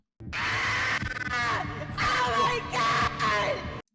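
In a Minecraft SMP game, a loud drawn-out scream comes in several wavering bursts with short breaks between them, harsh and close, over a low rumbling background.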